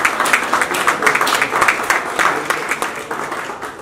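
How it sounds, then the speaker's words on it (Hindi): Audience applause at a literature festival in a hall, a dense steady patter of many hands clapping at close range, with no talking. "तालियां बजती रहनी चाहिए।"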